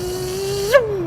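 A short vocal imitation of a racing car engine, a steady buzzing hum that revs upward to a brief peak and then fades as it pulls away.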